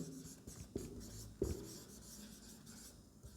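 A pen writes an answer by hand during a Class 8 maths lesson on data handling, giving soft, close scratching strokes with a couple of sharper taps, faint and steady over about three seconds.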